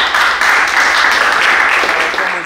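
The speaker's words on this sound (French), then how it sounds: "Est-ce qu'on peut applaudir pour Forever?" Audience applauding at an AKWABA ceremony, a dense wash of clapping that is steady and fairly loud for a couple of seconds and then tapers slightly.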